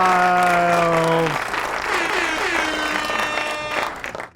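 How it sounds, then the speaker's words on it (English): A crowd cheering-and-applause sound effect swells in loudly, with a brief tonal cry at the start giving way to dense, steady clapping and cheering that cuts off abruptly. "And the crowd goes wild."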